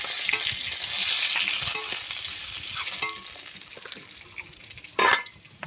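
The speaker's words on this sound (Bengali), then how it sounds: "আলু আর কলাটা আমি একসঙ্গে করে ভেজে নেব।" Potatoes and green banana fry together in a pan with salt and turmeric, a steady bright sizzle throughout with a louder burst of crackling near the end.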